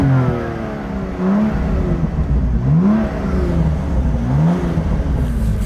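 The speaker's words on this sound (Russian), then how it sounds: "Я сейчас просто запишу выхлоп из салона, чуть-чуть с открытым окном" A BMW M2 with an Eisenmann exhaust is heard from inside the cabin with the window slightly open, the engine revving up and down in several rising swells over a steady rumbling drone, fairly loud and near.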